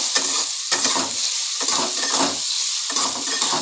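Boiled amla, Indian gooseberries, stirred in hot oil in a pan for pickle, giving a steady sizzle with repeated scraping strokes of the spoon in a loose rhythm, close and fairly loud, with no talking.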